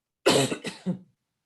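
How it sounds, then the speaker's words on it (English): A single close cough in two or three quick bursts, then silence. "I'm going to have to cough"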